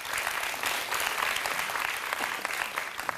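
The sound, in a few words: applause for Prof Bagir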